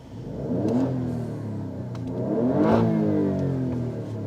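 An Alfa Romeo Stelvio Quadrifoglio engine in race mode revs twice, rising and falling in loud, close blips with a throaty mid-range growl and no talking over it.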